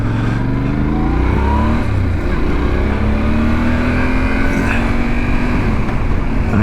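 A car engine hums loudly and steadily, shifting pitch as the vehicle drives along with other traffic droning nearby.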